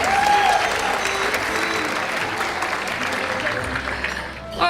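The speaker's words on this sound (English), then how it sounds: "Please give a round of applause for Caitlin." An audience at the 2019 GSA Make a Difference Award ceremony breaks into steady, sustained applause, a broad wash of many hands clapping that continues throughout.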